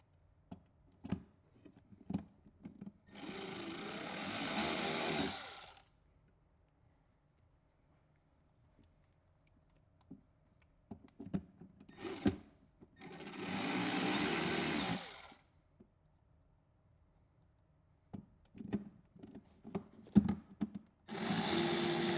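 A power driver runs screws into an American Hard Bag 5x7 to 6x9 speaker lid adapter on a motorcycle, giving several sustained whirring bursts separated by quiet pauses and small clicks and taps of handling.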